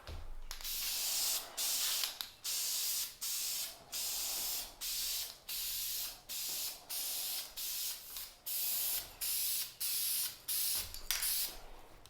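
Spray paint hisses onto a 1950s Sears J. C. Higgins camp stove in a steady rhythm of about a dozen short, even bursts with brief pauses between them, close and fairly loud with no talk.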